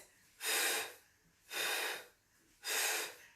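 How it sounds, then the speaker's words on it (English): Three strong, breathy exhales are forced out through the mouth during a Pilates workout, each about half a second long and evenly spaced, close and clear with quiet pauses between them. "Really force the breath out through your mouth"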